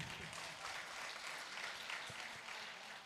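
Applause from a crowd at an outdoor Indian mushaira and kavi sammelan poetry evening in Buxar, Bihar, a dense, steady wash of many hands clapping that holds at a fairly even level throughout.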